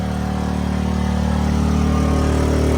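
A gas generator runs at a steady drone throughout, close and loud, with a constant low engine hum and no change in pace or level.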